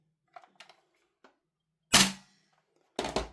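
A Marui MWS clone airsoft rifle, a DE Noveske Ghetto Blaster, fires in two sharp, close bursts of rapid snapping shots about a second apart, preceded by faint handling clicks in near silence.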